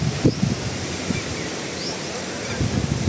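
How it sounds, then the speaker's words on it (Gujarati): A strong gusty wind before rain sweeps past outdoors, a rough rushing bluster with buffeting surges, alongside a few honking sounds. "ઓલા વરસાદ પહેલાનો પવન હોય ને એવો પવન નીકળો જો અટાણે."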